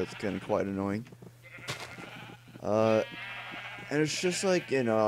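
Sheep bleating in the video game Minecraft, from a sheep farm, heard as short cries under a person talking over most of the stretch.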